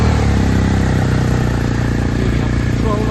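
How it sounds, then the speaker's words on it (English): A BMW R1250RS motorcycle engine runs steadily at idle nearby, a continuous loud thrumming with light mechanical clatter and no break. "so engine needs to be running"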